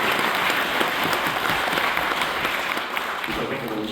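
A dense wash of audience applause at a county commissioner candidate forum, steady and fairly distant, easing slightly toward the end as a voice begins to emerge.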